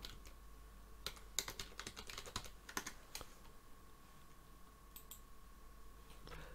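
Typing on a computer keyboard, an irregular run of quick clicky keystrokes in short bursts with pauses, faint and close, no one speaking.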